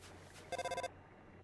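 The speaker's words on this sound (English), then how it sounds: "Oh, there's a phone call." Phone call ringtone in the video game Undertale: a short electronic ringing burst of rapid, evenly pulsed tones, loud and alone, stopping abruptly.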